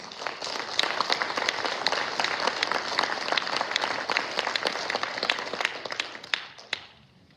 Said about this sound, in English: A round of applause for these musicians.